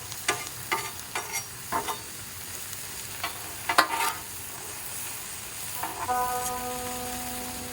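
Mushrooms sizzle steadily on a hot griddle, with scattered clicks and scrapes of a spatula turning them, and a faint tonal ring entering near the end.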